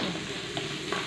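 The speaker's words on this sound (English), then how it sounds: "I am sauteing my onions" Onions sautéing in a pan for Filipino paksiw na pata, a steady close sizzle and fry throughout with a couple of brief stir or scrape bumps, no voices.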